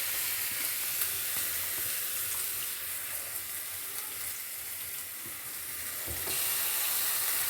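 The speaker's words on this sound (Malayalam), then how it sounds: "ഇനി നമ്മൾ ഇതിലേക്ക് അരച്ചരപ്പ് ചേർക്കുവാണ്." Ground coconut paste going into a hot pan for kaalan, a Kerala yogurt curry, with a steady broad sizzle and hiss that swells near the end, close and loud with no talking.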